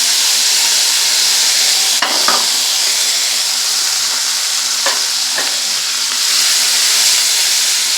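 Chopped ginger, garlic and onion frying in oil in a pan for a spiced fish curry, a steady close sizzle with a few brief stirring scrapes.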